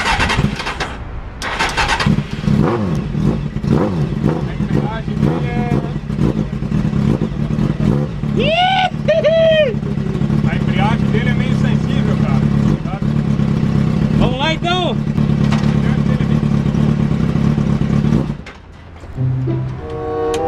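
A mini Camaro drift car's small engine cranks, catches and runs loudly and close, with rising revs and clatter sustained for most of the stretch before dropping off near the end; people talk over it.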